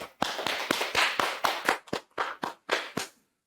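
Clapping to thank a government official after a job-training lecture at a university career development center: about a dozen sharp, evenly spaced claps, close and fairly loud, with no talking.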